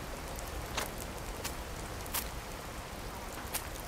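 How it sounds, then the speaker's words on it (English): Heavy rain falls in Card Survival: Tropical Island as a steady, soft hiss of constant patter, with a few slightly louder drop hits scattered through it. "Also, it's heavy rain, so I could go and grab some more fish."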